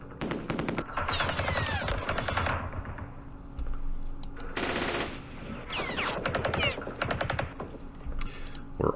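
Gunfire from a Campaign Series Middle East wargame set at the Battle of Jerusalem: dense, loud automatic bursts and rattling volleys fill most of the stretch, with brief pauses between long strings of rapid shots.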